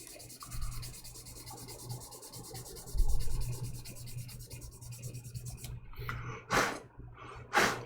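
Wet sanding with 1000 grit sandpaper gives a soft, close, steady rubbing hiss in quick strokes, ending in two louder, sharper swipes.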